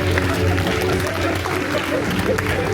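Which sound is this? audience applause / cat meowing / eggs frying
audience applause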